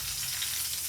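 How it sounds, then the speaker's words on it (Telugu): Mustard seeds, cumin and curry leaves sizzle and crackle in hot oil in a pan for an Indian curry. The short, close, steady frying hiss is heard alone. "కాగినాక ఆవాలు కొద్దిగా, ఆవాలు, జీలకర్ర కొద్దిగానే చూడండి, కరివేపాకు"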